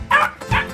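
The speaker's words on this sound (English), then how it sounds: "Sorry guys, that's my new puppy Buster" New puppy gives two quick, sharp yips close by, the short barks separated by a brief pause.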